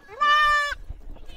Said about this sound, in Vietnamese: Rất nhiều các em dê rất là đẹp các bạn ạ.